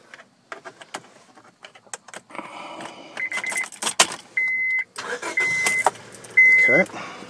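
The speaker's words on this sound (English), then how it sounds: "I'm going to start the car again." A car engine cranks and starts after the key is cycled off and on during an OBDII scanner diagnostic session, with jangling keys and a few short electronic tones nearby; the engine turns over and catches close up.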